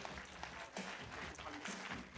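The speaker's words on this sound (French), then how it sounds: "je vais vous demander d'applaudir Jean-Yves Pachaud, le maire de Courchevel" An audience claps for the mayor of Courchevel at the inauguration of a sports club, with a fairly quiet, uneven patter of hands and brief louder bursts, plus some faint talk or crowd murmur mixed in.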